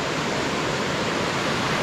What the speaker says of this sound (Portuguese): Então essa parte só a cachoeira é aqui.